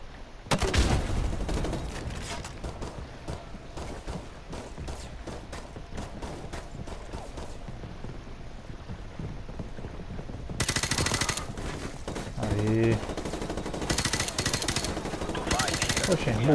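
Gunfire in the video game Call of Duty Modern Warfare, with rapid automatic bursts and repeated shots running through the whole passage, loud and close, with heavier volleys near the end and a voice talking at times underneath.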